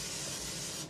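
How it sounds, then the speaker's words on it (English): Canola oil cooking spray hissing out of an aerosol can into bread loaf pans, one steady close spray lasting just under a second before cutting off. "This is great value canola oil spray."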